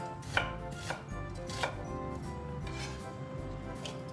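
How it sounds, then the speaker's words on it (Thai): Knife chopping through an unpeeled tuber on a cutting board while making curry paste: three distinct firm chops early on, followed by fainter, softer cuts, close and clear with no voices. "นี่ก็จะหั่นทั้งเปลือกเลยค่ะ แล้วเดี๋ยวอันนี้นี่จะมาหั่นซอยนะคะ"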